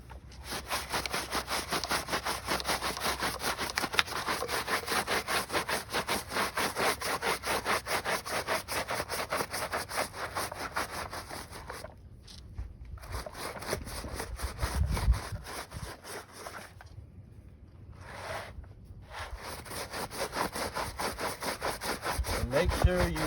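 A stiff brush scrubs rubber car floor mats in fast, rhythmic back-and-forth strokes, close and raspy, with a couple of short pauses and quieter stretches before scrubbing resumes.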